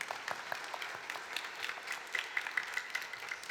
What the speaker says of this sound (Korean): 박수와 격려 부탁드리겠습니다